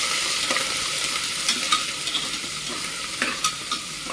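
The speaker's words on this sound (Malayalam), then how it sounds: "ഇഞ്ചി വെളുത്തുള്ളി പേസ്റ്റ് വിട്ട് നല്ലോണം ഒന്ന് മിക്സ് ചെയ്തെടുക്കാം." Crushed ginger garlic paste sizzles in hot oil in a pan while being stirred, a steady close frying hiss punctuated by light spoon taps and scrapes against the pan at irregular intervals, no voices.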